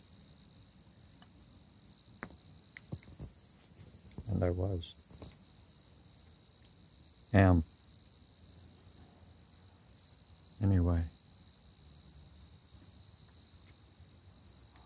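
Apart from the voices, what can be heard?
crickets chirping on a morning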